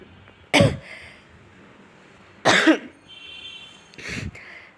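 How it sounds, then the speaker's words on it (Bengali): Three separate harsh coughs from one person, close and loud, spaced about two seconds apart against a quiet room. "আমার একটু কাশি উঠছে, সরি এর জন্য।"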